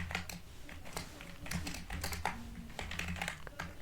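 Steady, rapid clicking of a computer keyboard as code is typed, close to the mic, with uneven bursts of keystrokes and no talking.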